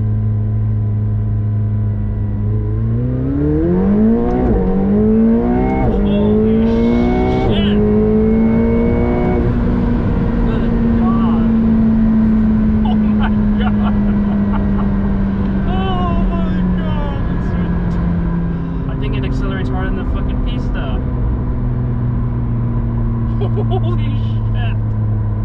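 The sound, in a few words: McLaren 720S accelerating hard through gears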